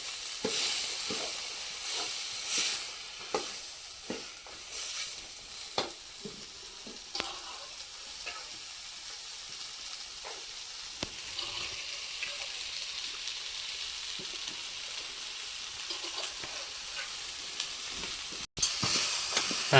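Fresh green beans (sole) tossed into a hot pan for a village-style wal aamti, giving a continuous bright sizzle with scattered stirring clicks and scrapes, close and fairly even throughout, no talking.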